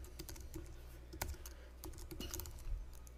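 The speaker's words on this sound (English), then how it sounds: "I'll go in and type in some extra email address here" Quiet keystrokes on a computer keyboard as an email address is entered, a soft, uneven patter of clicks with a few louder taps, close and with no speech.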